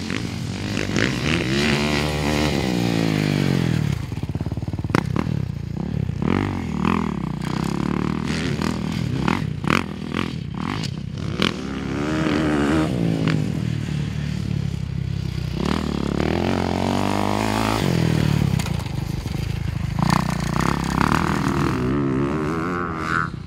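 A 2020 Kawasaki KX450 dirt bike rides along dry terrain, its engine note rising and falling steadily and loudly throughout with clattering and scraping from the ride, and no voices.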